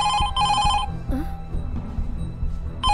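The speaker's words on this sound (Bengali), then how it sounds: "ফোনটা বাজছে, একটু ধরো না।" A telephone rings in a Bengali film scene, two bursts of bell-like tones at the start and another at the end, with a voice speaking over a low background hum between the rings.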